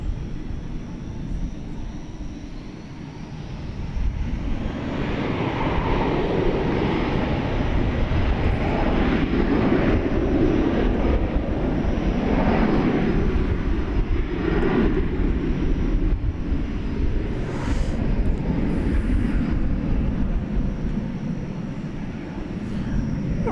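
An airliner takes off from runway 18 left at DFW Airport at night, its jet engines a loud, broad roar that builds and holds steadily across the whole stretch, heard from a distance with no talk over it.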